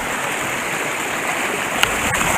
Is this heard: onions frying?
no